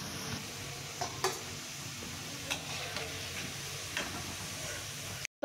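Rice flour balls (bor) frying in hot oil give a steady, close sizzling hiss, broken by a few sharp clicks and light pops, with no voices.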